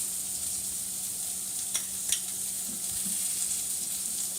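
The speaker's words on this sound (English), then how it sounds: "going with the crushed garlic." Onions and crushed garlic frying in a pot give a steady, fairly quiet sizzle, with a couple of faint clinks of a spoon stirring, and no voices.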